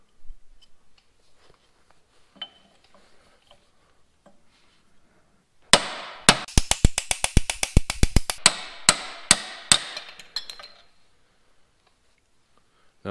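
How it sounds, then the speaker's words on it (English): A bushing driver is hammered to knock a bushing out of a Farmall M tractor's wide-front axle part, producing a rapid run of sharp, loud metallic strikes lasting several seconds after quiet fiddling sounds. "I'm going to use the driver from my kit I got to drive it out"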